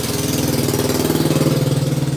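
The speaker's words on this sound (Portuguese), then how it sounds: "Participação especial aqui de uma moto" A motorcycle engine drones outside with a steady, pulsing mid-range putter that rises slightly as it passes and then holds, fairly loud and alone, with no talk over it.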